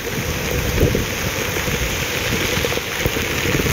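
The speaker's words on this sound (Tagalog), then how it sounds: "lakas ang hangin" Strong typhoon wind and rain lash a Paco Road area in Manila, a steady, loud rushing roar of gusts and downpour that fills the whole stretch without letup.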